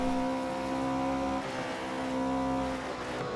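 Porsche race car in the Assetto Corsa racing game, with a steady high-revving engine drone and strong harmonic whine that dips briefly mid-run as the gear or throttle shifts, then holds loud and continuous to the end.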